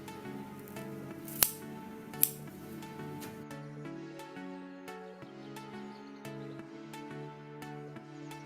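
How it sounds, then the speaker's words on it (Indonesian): Scissors snip through a tray of microgreens at harvest, their roots matted like a carpet in cocopeat, giving two sharp close clicks over a steady bed of soft background music. "Kita gunting di sini."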